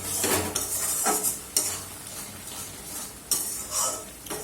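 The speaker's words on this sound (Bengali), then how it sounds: "এটাকে এবার গ্যাসটাকে বাড়িয়ে কনস্ট্যান্ট নেড়ে রান্না করতে হবে," Lote fish cooking in a pan over raised gas heat, a continuous sizzle under repeated scraping stirs, with metal spoon clinks against the pan at intervals.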